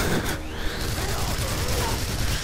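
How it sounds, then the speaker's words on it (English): Gunfire from the video game Singularity crackles in a dense, steady burst over a rumbling in-game soundscape, loud and close throughout. "I shot him in the ass"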